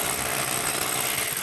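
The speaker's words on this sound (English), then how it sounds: "It's the hammer drill." A Milwaukee hammer drill bores anchor holes into a concrete foundation, a loud, close, unbroken hammering rattle with high-pitched whine, running steadily throughout.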